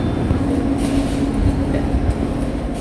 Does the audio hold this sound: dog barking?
no